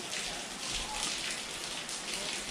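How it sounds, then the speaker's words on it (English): Steady rain falls outside on an overcast day, a dense continuous hiss of drops on surfaces that holds even throughout the short stretch. "with it raining out like it is and overcast like it is"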